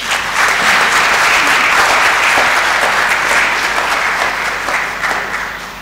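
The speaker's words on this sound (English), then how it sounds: "We must give them a round of applause." Sustained loud applause from an audience at the final round of a national moot court competition, steady dense clapping that swells early and tapers slightly toward the end.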